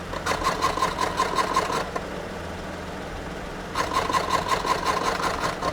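On a BMW E32 750iL, a loose heat shield above the exhaust buzzes and rattles in rapid, even bursts over an idling V12, going quiet for a couple of seconds before resuming.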